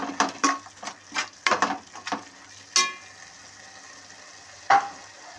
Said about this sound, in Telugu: ఇలా పచ్చికొంప రాకుండా వేపుకుందాం